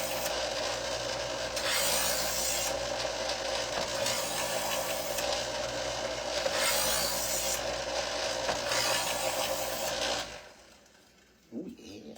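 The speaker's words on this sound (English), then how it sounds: "Run it through about 6 times on each angle and let the machine do the angle." A knife is pulled repeatedly through an electric sharpening machine, loud rasping grinding strokes in steady pulses over a motor hum, stopping near the end and followed by a brief clatter.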